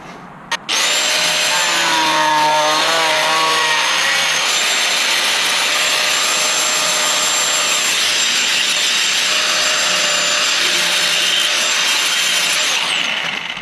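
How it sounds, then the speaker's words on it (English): An ABS plastic A/C delete panel for a car is trimmed with a power cutter, giving one loud, continuous grinding whine that runs for about thirteen seconds without pause. "It's just ABS plastic, guys, so fairly easy to cut."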